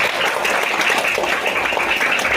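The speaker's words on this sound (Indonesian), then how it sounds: "Kurang keras, tepuk tangannya mana?" Schoolchildren at an Islamic study session at an elementary school in Pringsurat clap loudly and continuously, a dense, even wall of applause with no break.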